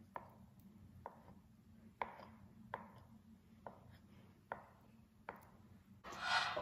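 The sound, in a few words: knife slicing food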